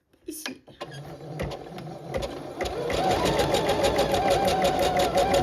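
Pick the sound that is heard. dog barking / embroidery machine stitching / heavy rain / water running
embroidery machine stitching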